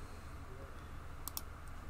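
A computer mouse clicks two or three times, as short, crisp, faint ticks close together against a quiet background, with no talking.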